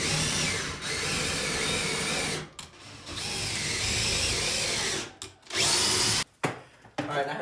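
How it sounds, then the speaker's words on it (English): A power drill whirs in long, loud bursts, pre-drilling holes in wood for a cabinet, with brief pauses and a few short stop-start pulses at the end. "now you just pre-drill your holes"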